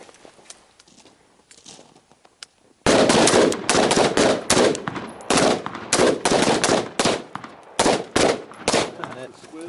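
Firearms fire in rapid bursts at a night shooting range after a quiet stretch. About a dozen sharp shots crack close and loud, some in quick pairs and triples. A person speaks faintly before the shooting begins.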